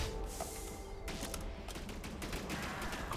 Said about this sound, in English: I'm probably going to use a blaster.